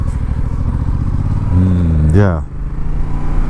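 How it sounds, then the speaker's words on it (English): Yamaha Tracer 7 motorcycle engine running steadily around town, a low droning rumble that rises in a brief rev partway through, heard up close under wind noise while a rider speaks briefly. "I just love this engine around town"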